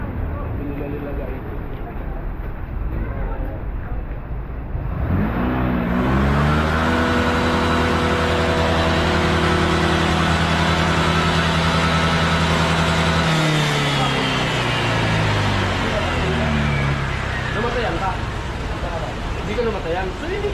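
A motorcycle engine starts up and runs close by on a flooded street with a steady, rising drone that holds for several seconds, then drops back to a rough idle.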